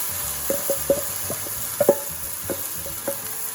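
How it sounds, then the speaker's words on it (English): Spinach, pepper and zucchini cooking in a pan over onion and garlic, giving a low sizzle broken by a series of light taps and clatters from stirring, close and moderately loud. "Cook that."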